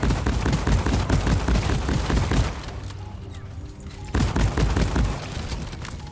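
Explosive chemical rounds fired in rapid bursts in Deep Rock Galactic, dense crackling shots and booming impacts that pause briefly and then resume loud and close.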